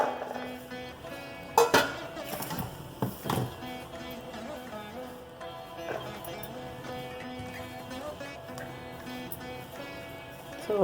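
Vegetables, peas and coriander in a bowl are stirred and tossed, giving scattered light clinks and scrapes with a few sharper knocks early on over a quiet background.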